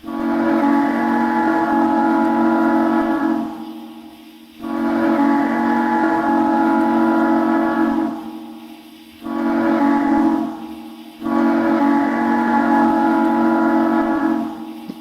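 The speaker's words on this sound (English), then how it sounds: "That is a Illinois Central 3 chime, which sounds very, very nice." Illinois Central three-chime steam locomotive whistle in the Trainz railroad simulator, blown in four loud sustained blasts with short gaps between them, a steady harmonic chord heard alone.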